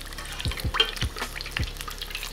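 Chicken eggrolls frying in hot oil while being rolled around in the pan. A soft bubbling hiss runs underneath a few low knocks and wet taps spaced about half a second apart.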